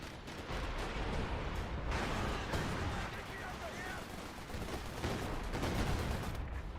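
An artillery barrage in Company of Heroes, with dense rumbling blasts and crackling gunfire running steadily under a voice.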